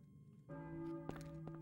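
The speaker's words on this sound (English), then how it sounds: "So you hear church bells ringing right now." Church bells ring in the Silent Hill video game, a steady sustained peal with sharp strikes layered over a humming drone, entering after a quiet moment and continuing.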